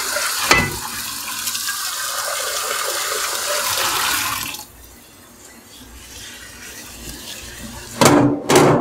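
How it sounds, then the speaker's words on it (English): Hot tap water runs into a kitchen sink over raw chicken pieces, a steady rushing stream that drops off midway, followed by a short burst of louder splashing at the end. "And I run some hot water over them also to get some of that slime and stuff off of them."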